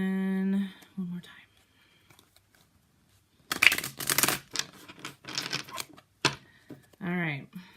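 A tarot card deck is shuffled in a burst of dense riffling and rustling lasting a few seconds, close and fairly loud, with a voice speaking briefly before and after.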